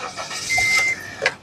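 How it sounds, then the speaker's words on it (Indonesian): A 2016 Honda Brio Satya 1.2 E with manual gearbox starts up in neutral, a brief close whir with short bursts and a steady tone, ending in a sharper catch about a second in. "baru kita coba nyalakan mobil"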